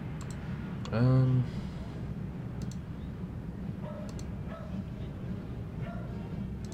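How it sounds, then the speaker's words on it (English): A dog barks in the background of the DOS-era horror adventure game Harvester: one loud, short bark near the start, with a few fainter yips later over a steady low hum. "you can hear a dog barking in the background"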